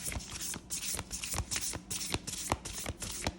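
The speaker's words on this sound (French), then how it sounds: "je vais mélanger les cartes" Tarot cards riffled and shuffled by hand in quick bursts, crisp papery flutters repeating in a steady rhythm, close and clear with no talking.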